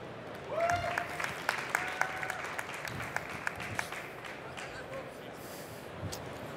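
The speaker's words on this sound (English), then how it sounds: "Give a huge round of applause once again." A startup pitch event audience claps and cheers in a large hall, sustained applause filling the room at moderate distance with scattered whoops over it.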